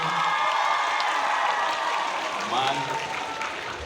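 Concert audience at a solo show in Truskavets applauding on cue, a dense continuous patter of clapping with some cheering while a voice talks over it.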